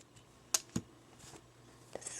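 Scissors snip crochet yarn twice in quick succession, giving faint, sharp clicks close by in an otherwise quiet room.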